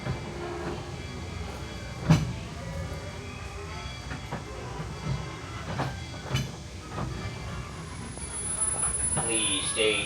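Magic Kingdom railroad train rolling on its rails, a steady low rumble with occasional clacks and thumps over joints, moderately close, with faint voices near the end.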